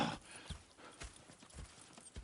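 Horse hooves clip-clop on the ground in the Western video game Red Dead Redemption, a steady near rhythm of about five distinct hoofbeats at moderate loudness, with no talk over them.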